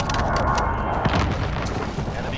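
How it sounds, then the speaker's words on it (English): Airstrike explosions in the Call of Duty Modern Warfare video game: dense, continuous booming and crackling gunfire-like blasts fill the scene at steady loudness, with a heavier thump near the middle. "Airstrike incoming."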